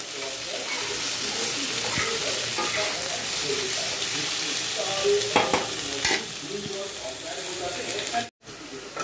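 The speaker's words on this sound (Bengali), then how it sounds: "এখন হচ্ছে গিয়ে সবজিগুলোকে ভেজে নিচ্ছি" Vegetables being stirred and fried in a pan, a steady close sizzle with scraping stir strokes and a few louder clatters, cut by a brief silence near the end.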